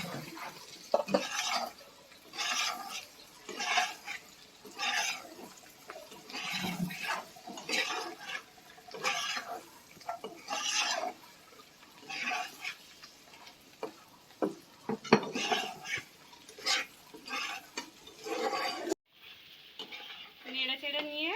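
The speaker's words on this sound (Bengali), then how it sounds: "এবার ভেজে রাখা পটলগুলো এর মধ্যে দিয়ে দেব।" Fried pointed gourds go into a pan and are stirred, giving a long run of close spatula scrapes and taps over a soft, steady sizzle, with the rhythm slowing near the end.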